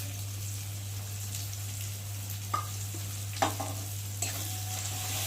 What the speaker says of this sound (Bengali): দিয়ে ভালো করে মশলাটাকে ভেজে নেব।